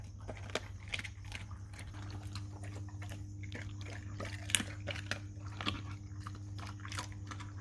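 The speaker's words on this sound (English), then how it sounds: "He's just crushing the bones." A large dog crunches and gnaws through raw bones, crushing them with strong bites; irregular sharp cracks and wet chewing repeat steadily, close by, over a constant low hum.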